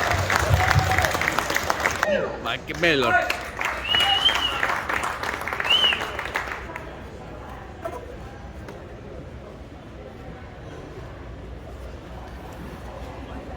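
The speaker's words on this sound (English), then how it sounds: "Applaud yourselves" Audience at an indoor muscle car, truck and hot rod show breaking into applause, a dense burst of clapping for several seconds that fades out, with a brief spoken name and distant murmuring as the hall settles.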